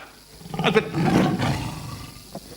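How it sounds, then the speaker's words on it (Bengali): A tiger roar in a Bengali stage drama, one short growling roar of about a second with a rough, rumbling body, close and fairly loud, followed by quiet. "বাঘের ডাক বলি তো মনে হচ্ছে গো।"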